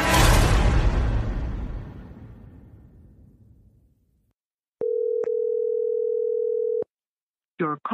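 A phone call tone sounds in the video game Jollyland: a fading whoosh, a brief silence, then one steady electronic tone held for about two seconds, close and clear. A short voice follows at the end.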